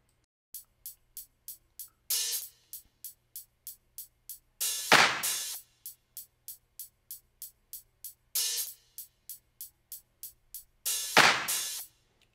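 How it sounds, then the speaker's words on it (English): Dry 808 drum kit clap sample played in Logic Pro, sharp short claps in a steady repeating pattern, interspersed with a few longer noisy bursts, each hit isolated with silence between. "So just not anything crazy, just a simple clap."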